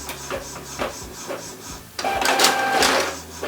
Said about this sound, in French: Nous allons maintenant lancer l'impression.